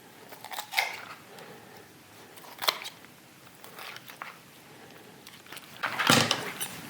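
A knife crunches through raw chicken skin and cartilage while quartering a whole chicken, giving a few sharp, close cracking cuts spaced apart, the last one longest and loudest.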